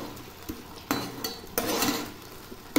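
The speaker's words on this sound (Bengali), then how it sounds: "কচু শাকটা দিয়ে এখন নেড়ে নেব" Boiled taro leaves (kochu shak) are stirred in a pan as the water cooks off, a utensil knocking and scraping the pan in several sharp clanks over a faint sizzle.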